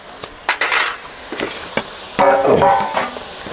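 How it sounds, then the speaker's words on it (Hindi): Chicken being added to fried onions in a pot for a rustic desi chicken curry, with scattered metallic clinks and scrapes of utensils against the pot, then a louder clattering, sizzling burst of stirring. "अब भाई हम लोग यहाँ पे डाल रहे हैं चिकन को।"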